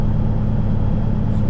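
Semi truck rolling down a road on a chilly early morning near Scranton, a steady, loud low engine and road rumble heard from inside the cab without any talk.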